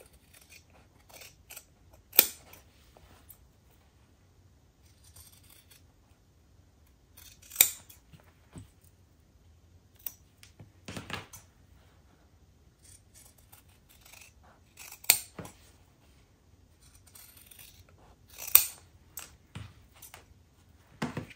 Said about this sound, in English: you're going to take your scissors and you're going to cut that square out